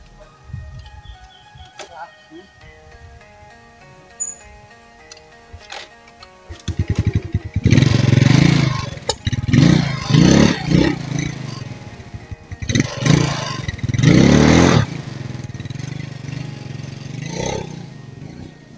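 A motorcycle engine starts up after a quiet stretch and runs nearby, with rough uneven revving and bursts that rise and fall, while people talk over it.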